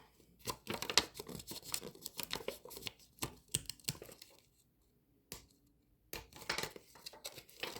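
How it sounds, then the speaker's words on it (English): A sticker being peeled off, giving bursts of close, crinkly tearing and crackling in short uneven spurts, with a quiet pause partway through before the ripping picks up again. "If I can get the sticker off."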